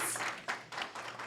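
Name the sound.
audience applause for honorees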